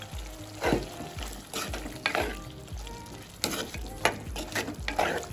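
Cucumber curry simmering in a pan is stirred after black spice powder goes in, a spoon scraping in repeated strokes over a soft steady sizzle, close and fairly quiet with no voices.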